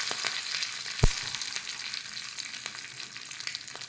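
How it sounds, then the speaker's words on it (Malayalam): Curry leaves hit hot oil for a Kerala mango curry, crackling and spluttering loudly with a sharp pop at the start, then a dense continuous sizzle with scattered snaps close by. "കുറച്ച് വേപ്പില ഇട്ട് കൊടുക്കാം. ഭയങ്കര പൊട്ടലാണ്."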